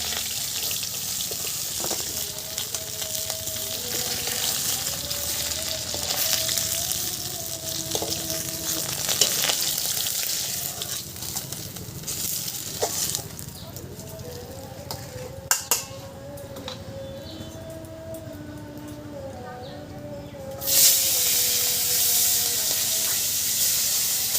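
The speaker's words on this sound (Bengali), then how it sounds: "কাঁটাগুলো কিন্তু আমার সব ভেজে নেওয়া হয়ে গেছে" Bhetki fish bones frying in oil in a home kitchen, a steady close sizzle running throughout with some water and stirring clatter, a short louder burst near the end.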